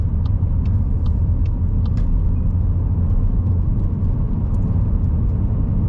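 Car engine speeding up in a 40 zone along a Sunday bus lane on a Leeds driving-test route, a steady loud in-cabin rumble with road noise throughout and faint ticks above.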